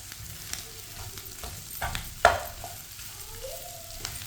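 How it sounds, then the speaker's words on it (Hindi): Potato masala stirred in a pan while frying for aloo paratha filling, a soft steady sizzle with scraping spoon strokes and one sharper clatter midway. "अब इसमें आलू का मसाला डाल लेंगे। मसाले को अच्छी तरह मिक्स कर लेंगे।"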